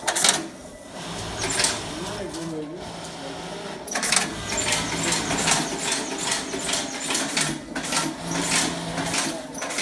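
An automatic snap button press machine runs with a rapid, repeating mechanical clatter and clicking, close and steady throughout, while someone talks over it.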